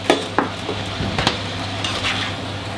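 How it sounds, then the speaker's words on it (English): An herb mix being stirred in a pan over a steady sizzle, with a few scraping and clinking knocks of the utensil against the pan. "So stir that up, get that mixing up in there."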